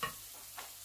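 Onion and pepper stirred in a frying pan, a faint, brief sizzle with a soft scrape of the utensil.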